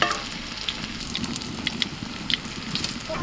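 Pea-stuffed kachori fry in hot oil with a steady, moderately loud sizzle and bubbling, broken by small crackles and pops, and no one talking.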